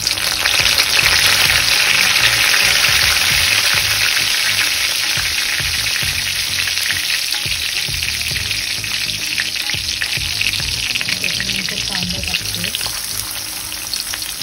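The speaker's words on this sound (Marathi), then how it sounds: "कांदा आपल्याला चांगल्या प्रकारे शिजवायचा आहे। थोडासा लाल होऊ द्यायचा कांदा।" Onion frying loudly in a pan with garlic and curry leaves, a dense, continuous close-up sizzle with occasional stirring movements throughout, no voices.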